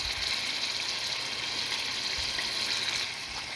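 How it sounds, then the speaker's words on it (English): Chopped tomato, green chili and ginger sizzle in a hot pan while aloo capsicum cooks, giving a steady, loud, close hiss that runs unbroken from start to end with no talk. "Then you put your tomato, green chili and ginger chopped"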